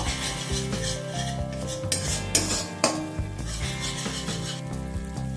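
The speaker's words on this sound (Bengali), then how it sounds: "আবারও খানিকক্ষণ প্রায় তিরিশ সেকেন্ডের মতো একটু নাড়াচাড়া করে নেব" Curry for pabda fish is stirred in a pan, a spoon rubbing and scraping against the metal in a quick rough rhythm with a few sharper knocks, close up and without speech.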